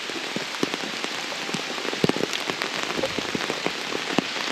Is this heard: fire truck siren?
no